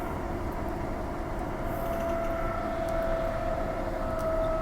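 A Transperth suburban train running from Thornlie toward Perth near Queen's Park gives a steady, loud rumble with a sustained whining tone riding over it throughout, with no voices.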